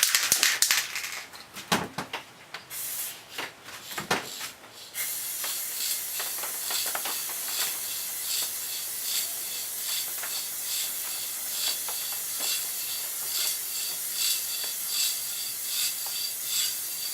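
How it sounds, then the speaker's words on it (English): Lacquer sprayed onto a workpiece, a steady close hiss running continuously after a few brief handling knocks and rustles at the start. "shall put my mask on and give it another lacquer."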